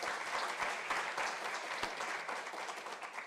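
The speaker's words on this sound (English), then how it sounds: "Let us give them a round of applause." An audience at a university research symposium applauds, producing a steady, dense patter of clapping from a full room that holds evenly and fades slightly toward the end.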